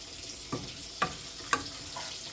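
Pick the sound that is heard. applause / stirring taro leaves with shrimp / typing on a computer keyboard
stirring taro leaves with shrimp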